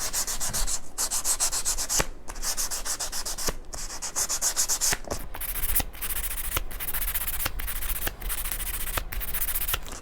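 Frets on a 2019 Fender Deluxe Nashville Telecaster neck are sanded by hand in steady back-and-forth rubbing strokes, a close, even scratchy rasp broken by short pauses between passes.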